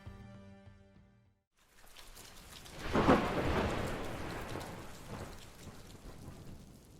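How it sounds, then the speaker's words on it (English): A thunderstorm with heavy rain serves as a sound effect in a comedic mystery audio drama. A short musical tail fades to silence, then steady rain swells and a loud thunder crack rolls out and rumbles away under the downpour. "It was a dark and stormy night."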